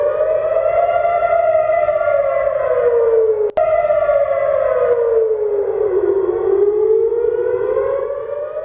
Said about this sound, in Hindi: जरा सुनिए ये सायरन कैसे बजते हैं